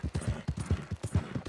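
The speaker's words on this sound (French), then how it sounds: "J'ai galopé jusqu'à Strawberry." Horse hooves galloping in the Red Dead Redemption video game, a rapid steady rhythm of heavy thudding footfalls, close and moderately loud, with no talking.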